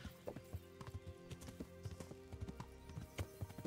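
Horse hooves clip-clopping in the video game Kingdom Come: Deliverance, a quick, irregular run of close, distinct hoof strikes over a low background hum.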